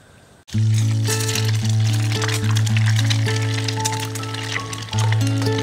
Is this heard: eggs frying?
yes